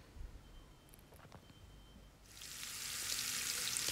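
Onions and chilies for a Bangladeshi fish pitha dish start frying in a pan, a loud steady sizzle rising abruptly partway through after a few quieter clinks and handling sounds.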